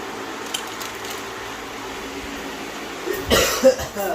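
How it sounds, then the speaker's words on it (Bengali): A person with a cold coughs a few times near the end, a short burst of close coughs after a quiet indoor stretch with a faint hum in the background. "ঠান্ডায় কাশছি"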